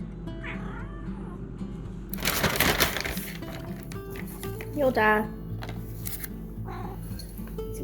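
A cat in a home kitchen meows several times, some calls drawn out and some short. A person talks, and a burst of clattering is also heard.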